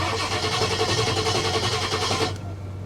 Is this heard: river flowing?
no